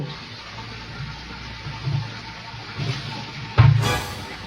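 Water running from a tap during washing with soap, a continuous moderate splashing flow with a few louder gushes and a sharper surge near the end.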